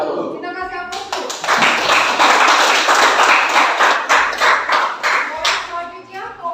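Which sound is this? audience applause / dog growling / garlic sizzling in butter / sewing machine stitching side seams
audience applause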